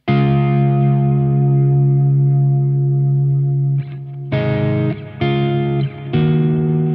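An electric guitar through a Victory VX100 or Soldano SLO100 amp rings out a long sustained chord awash in reverb, then strums several more chords that echo and trail off.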